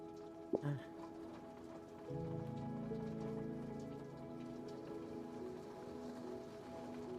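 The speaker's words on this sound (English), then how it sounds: "The rain is always so loud." Heavy rain falls in a steady, loud hiss of drops on surfaces, with a single sharp knock near the start and a thicker patter swelling after a couple of seconds.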